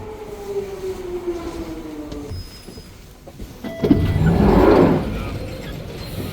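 A packed London commuter train runs into London Bridge station, its steady rumble carrying a falling whine before a louder rushing surge near the end, with a person talking over it.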